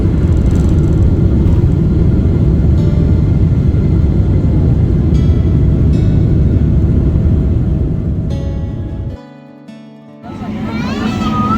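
An Air France long-haul airliner takes off from runway 07R, heard from inside the cabin as a loud, steady engine roar and rumble that suddenly drops away near the end before rising again.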